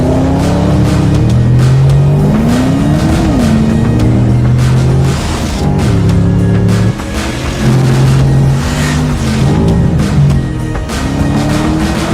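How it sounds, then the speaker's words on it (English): A 2021 Porsche Panamera is driven hard around the Nürburgring, its engine loud and close, revving up through the gears with rising and falling pitch and quick shifts throughout. "Our test driver Lars Kern recently drove the car at the Nürburgring and showed what the new Panamera is capable of"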